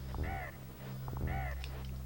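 Birds caw in a snowy level of the Donkey Kong Country video game, two harsh calls about a second apart over a steady music drone.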